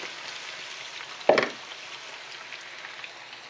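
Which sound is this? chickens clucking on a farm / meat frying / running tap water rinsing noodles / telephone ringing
meat frying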